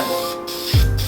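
Black spray paint hisses from an aerosol can onto a worn bucket seat in two short close bursts, with a low thump near the end and a background hum.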